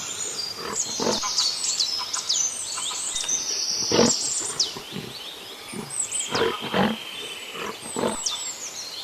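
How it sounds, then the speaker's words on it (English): A lion's roar sounds in a wild setting, with a series of short, rough grunting calls spaced irregularly, moderately loud against a hissy background with high chirps from birds overhead. "lion"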